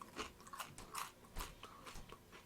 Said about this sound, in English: There's going to be a lot of crunching.